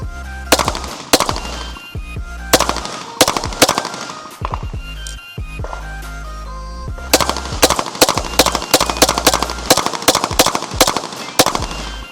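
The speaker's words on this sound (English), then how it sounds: "I'm just gonna take a few shots also, just to see how it feels." A Dark Forge Reaper Kovert 2011 pistol fires in loud, close bursts of rapid shots with short pauses between strings, sharp cracks echoing, no talk.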